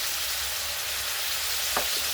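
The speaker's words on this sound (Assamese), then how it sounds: "এতিয়া মই নিমখ হালধিৰে মাংসখিনি অলপ ফ্ৰাই কৰি ল'ম" Mutton pieces sizzle in hot oil with salt and turmeric, a steady close frying hiss with a brief scrape of stirring near the end.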